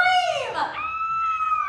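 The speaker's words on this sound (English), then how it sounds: "Let's all hear how you would scream!" A woman at a theme park special effects show gives a high, sustained scream, loud and close, rising and then holding steady for under two seconds, with no talk over it.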